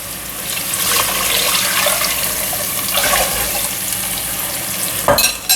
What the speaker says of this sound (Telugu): ఈ కలిపి పెట్టుకున్న మజ్జిగ ఉంది చూడండి, అది వేసేయాలి